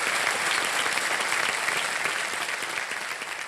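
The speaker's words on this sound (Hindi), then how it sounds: "बहुत बहुत तालियां बज जाए इनके लिए" Dense, loud applause from a studio audience on a televised quiz show stage, sustained steadily throughout with no voices over it.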